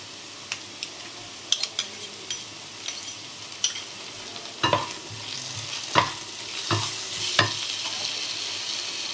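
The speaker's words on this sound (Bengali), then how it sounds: "পেঁয়াজটা একটু গোল্ডেন ব্রাউন করে ভেজে নেব। এবার রসুন বাটাটা দিয়ে দেব" Onion frying toward golden brown with garlic paste added for a Bengali-style chicken ghanto, a soft steady sizzle punctuated by repeated spatula scrapes and taps against the pan.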